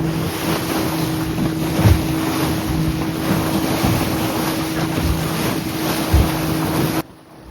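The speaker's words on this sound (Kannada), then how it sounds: "ಅವರೇ ಬೋಟನ್ನು ಡ್ರೈವ್ ಮಾಡ್ತಿರೋರು" A motorboat driven out at sea gives a steady, loud engine drone with constant wind and water rush, unbroken until it cuts off sharply near the end.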